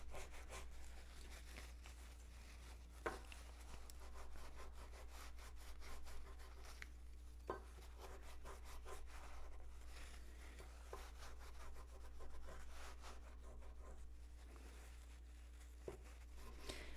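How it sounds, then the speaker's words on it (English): A silver spoon being rubbed with a paper towel to polish it, a faint, steady back-and-forth scrubbing with a few sharp knocks, close and quiet. "just rub it with your paper towel"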